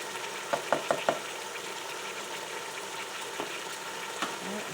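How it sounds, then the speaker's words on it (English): Hamburger with heavy whipping cream sizzles and crackles in a pan with a steady hiss, broken by a few quick knocks of a utensil early on; no talking. "All that frying going on."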